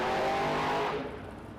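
A Pro Street drag car launches wheels-up down the strip at Las Vegas Motor Speedway, its engine a loud, close roar that sustains and then fades as the car pulls away.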